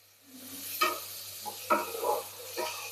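Tomatoes and onions sautéing for kurma hiss softly in a pan, broken by several sharp scrapes and clinks of a spoon stirring at irregular moments.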